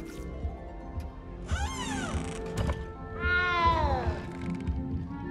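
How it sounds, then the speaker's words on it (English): A cat meows in the video game Hogwarts Legacy: two clear, drawn-out meows, the second longer and wavering, sound over a low ambient background with no talk. "You don't need to be frightened, little cat."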